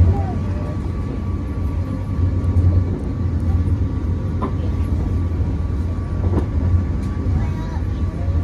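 A steady low rumble of a moving passenger train on the Bandung to Jakarta line continues throughout, with faint rattles and a few brief clanks and no clear speech.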